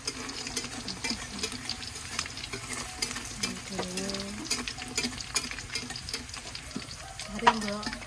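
Potatoes frying for sambal goreng kentang sizzle in a pan with intermittent stirring clatter and scraping, a steady crackle running throughout with a sharper clank near the end; faint voices sound in the background.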